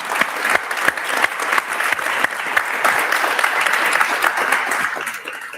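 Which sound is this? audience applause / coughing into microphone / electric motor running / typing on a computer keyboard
audience applause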